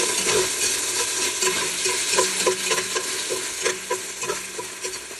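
Garlic frying in an oiled pan for a mung bean dish, a close steady sizzle with regular scraping clacks of a spoon stirring through it.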